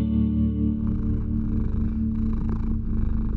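Close cat purr, a low rumbling pulse repeating steadily and loud against a faint background, with no voices.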